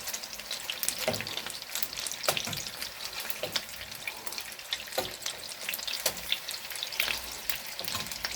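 Meatballs sizzle and fry steadily in a hot frying pan, a continuous close crackle with occasional sharper pops and light stirring, no voices.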